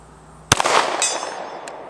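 A single sharp gunshot from a Canik TP9 Elite SC subcompact pistol, fired outdoors at a target 100 yards away by a hillside. The crack is loud and close, with a ringing tail and a couple of fainter impacts or echoes afterward.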